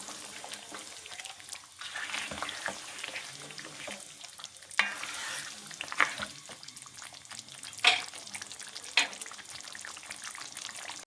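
Mutton qorma simmering and frying in ghee, a steady close sizzle with occasional stirring scrapes and a few sharp spoon clinks against the pot.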